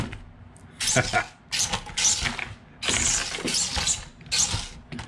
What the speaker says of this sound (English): this motor that's in here should not be doing what you just seen it do. It should be doing this.